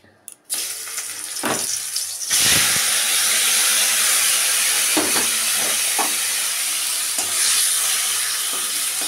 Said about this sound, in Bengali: চলো তেল গরম হয়ে গেছে, আলুগুলো ছেড়ে দিই।